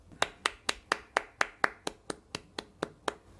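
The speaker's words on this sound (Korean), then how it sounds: "우리 하나님께 영광의 박수 올리겠습니다." A church congregation at a Sunday worship service claps together in steady unison, about fourteen crisp, evenly spaced claps that fade slightly toward the end, with no voices over them.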